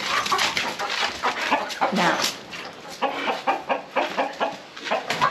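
Chickens cluck on a farm in the evening, a steady stream of short close calls with people talking over them.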